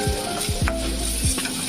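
Ginger paste and cumin powder sizzling loudly in a hot pan, with a few scraping strokes of a spoon stirring through the steady frying hiss.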